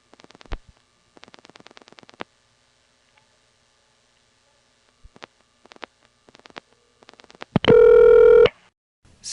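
A telephone number is dialed on a 1970s phone network: bursts of rapid clicking pulses separated by dead silence, then a loud steady tone lasting about a second near the end.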